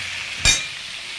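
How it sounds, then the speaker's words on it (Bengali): Potato pieces frying in a pan for a Bengali potato curry, a steady hissing sizzle with one brief scrape of a spatula stirring partway through, close and moderately loud. "লাল লাল ভাজা হয়ে গেছে এবারে ফ্লেমটাকে মিডিয়াম করে দেবো"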